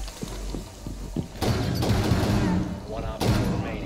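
A few soft taps, then loud shotgun blasts in a Rainbow Six Siege ranked match ring out close and heavy, two main bursts spaced apart, with players' voices talking over the action.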